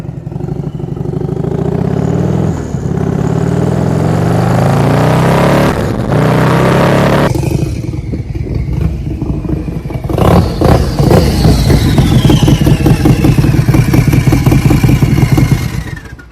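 A turbocharged 2020 Harley-Davidson Low Rider S (FXLRS) motorcycle, tuned to over 180 horsepower, revs hard and accelerates, its loud engine note climbing through the gears with a brief gear-change dip partway, no talking over it.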